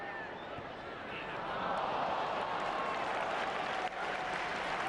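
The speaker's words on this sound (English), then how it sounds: "Brian McDermott applauding his team for the efforts that they're putting in" A large stadium crowd keeps up sustained applause and noise throughout a Reading v Blackpool football match in 2012, with faint commentary underneath.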